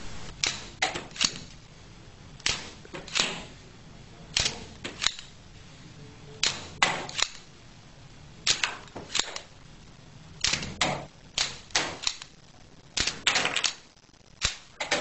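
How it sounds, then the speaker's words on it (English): A wooden toy pistol fires repeatedly at a stack of Jenga blocks, giving sharp, irregular snapping clicks and clacks in clustered bursts, close and fairly loud with quiet gaps between, with no talking. "It's just way too much fun to shoot at all the blocks."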